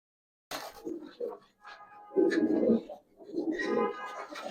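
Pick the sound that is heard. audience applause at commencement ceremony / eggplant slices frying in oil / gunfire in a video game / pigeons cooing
pigeons cooing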